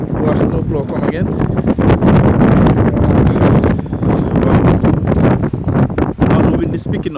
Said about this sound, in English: Now the wind is picking up.